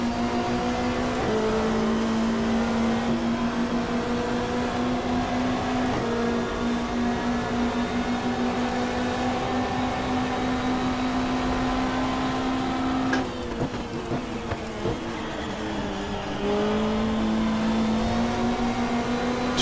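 Mid-1990s Australian Super Touring cars racing at the Gold Coast Indy circuit in the GTR2 sim game, a loud sustained engine drone near and continuous, with gear changes and shifts in pitch as the cars accelerate.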